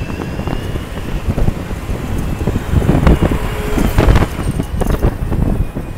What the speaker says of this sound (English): It's like windy out tonight.